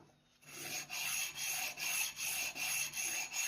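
A comb slides lightly over the coarse side of a grinding stone in steady back-and-forth rasping strokes, about eight close, even passes with no talking.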